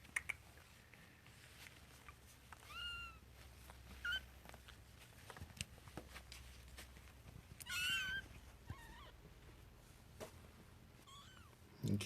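Several faint, high kitten meows scattered across a quiet background, short and squeaky, with a few soft rustles and taps between them.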